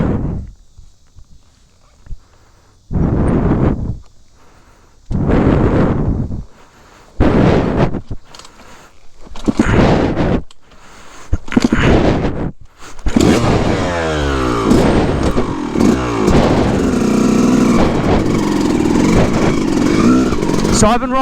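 A dirt bike engine idles unevenly, sputtering in short bursts separated by gaps. It then settles into a more continuous, rough running sound with someone talking over it.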